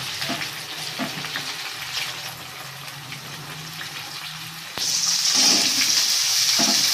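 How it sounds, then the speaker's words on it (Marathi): Green village brinjal goes into a hot kadhai (wok) with a sudden loud sizzle partway through, following softer stirring and bubbling sounds; no talking is heard. "आता कढईमध्ये टाकणार आहोत पण वांग्या"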